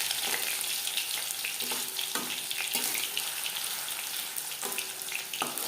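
Fish frying in oil over a medium flame, a steady crackling sizzle with sharper pops and spatters at intervals, joined by brief scraping stirs and a faint running-water sound; no one speaks.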